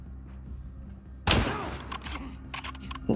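Rifle gunfire in The Last of Us 2, a sudden loud shot crack with a rumbling tail, followed by a few scattered sharper bursts and clatters near the end.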